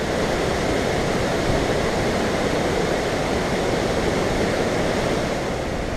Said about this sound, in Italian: siamo arrivati alla cascata Kon Pha-Pheng, considerate le Niagara del sud-est asiatico